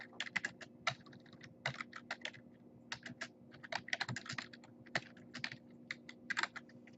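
Fingers type on a computer keyboard in quick irregular bursts of close, crisp key clicks with brief pauses, with a faint steady hum underneath and no talking.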